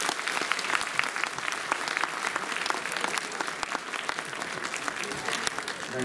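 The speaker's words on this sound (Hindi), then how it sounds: "ताली आप लोग बजाएं।" An audience at a political gathering honoring Dr. Ambedkar's birthday claps loudly and steadily for several seconds, a dense sustained applause with no pause.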